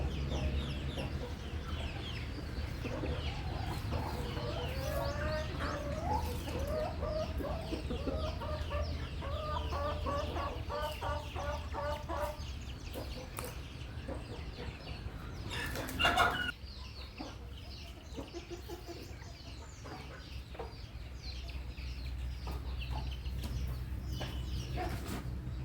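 Chickens cluck repeatedly in bursts over a steady background hum, with a brief louder clatter partway through; no clear talking.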